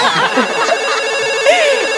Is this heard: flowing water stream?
no